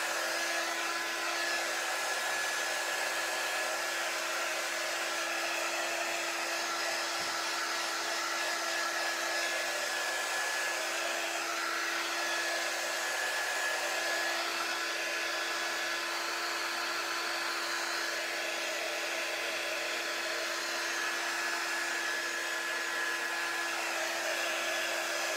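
A blow dryer drying chalk paint runs continuously at steady volume, a close, constant whooshing hum of airflow and motor with no breaks and no voices.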